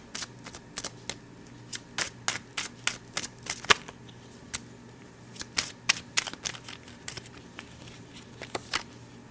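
Tarot cards shuffled and drawn, with rapid bursts of crisp card flicks and riffles in two clusters separated by a short pause, close and clear.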